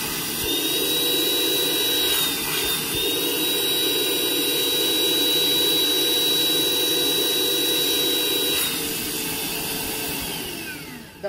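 A Hoover ONEPWR Evolve Pet cordless upright vacuum runs on its lowest setting, a steady high whine and airy motor roar held for several seconds before spinning down at the end.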